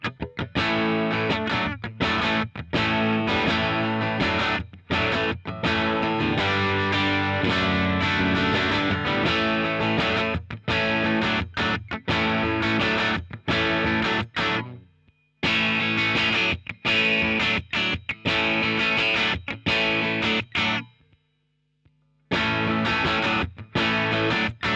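Fender electric guitar with two pickups wired in series like a humbucker, played loud through distortion; dense driven chords and riffs ring out alone, with short breaks near 15 and 21 seconds and a low sustained note in one gap.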